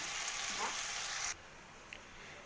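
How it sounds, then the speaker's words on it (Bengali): Potato pieces frying in a pan with salt and turmeric, a steady close sizzle and hiss that drops noticeably quieter partway through, with a faint clink near the end. "এটাকে একটু ভালো করে ভাজা ভাজা করে নেব।"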